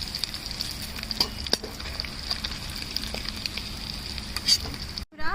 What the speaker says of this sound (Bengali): আমার কিন্তু চিংড়ি মাছগুলো লাল লাল করে ভাজা হয়ে গেছে